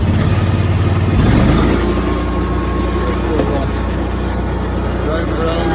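Kubota Z781i zero-turn mower engine running loud and close with a steady low rumble, its pitch shifting briefly early on before settling into an even idle.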